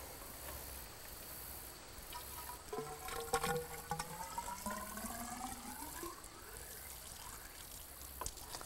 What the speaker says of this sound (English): take the bucket and fill up your turbidity tube.